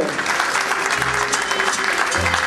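Audience applause at a 50th anniversary event in Ilo, Peru: a dense, steady wash of many hands clapping together, holding an even loudness for the whole stretch with no voices rising above it.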